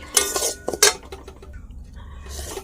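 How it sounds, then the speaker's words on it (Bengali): Semolina being stirred in a kadai while it roasts, with a spoon scraping and clinking against the metal pan in a few sharp close strikes followed by quieter scraping, no talk. "পাঁচ মিনিট ধরে এটা কড়াইয়ের ভিতরে ভালো করে নাড়তে হবে"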